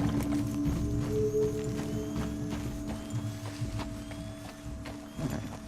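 Steady clip-clop of horse hooves at a walking pace in Red Dead Redemption 2, continuous and fairly close, over a low ambient hum with faint tonal background music.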